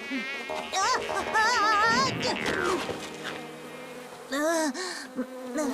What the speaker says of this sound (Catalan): Fora, mosquits!